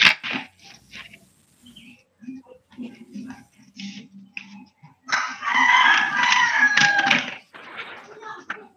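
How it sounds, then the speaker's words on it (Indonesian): Chickens cluck in short bursts nearby, then a rooster lets out one long, loud crow that rings out for a couple of seconds, with a little background talk. "Ini suara ayam aja nih"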